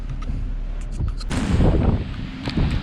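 Hurricane Dorian wind buffeting a microphone outdoors, a rough continuous roar that swells louder midway and stays strong, with no talking.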